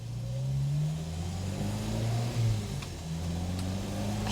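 A classic Ford car's engine pulls under light throttle along a bumpy road, heard from inside the car. Faint engine tones rise and waver over a low rumble, with occasional knocks from the rough surface.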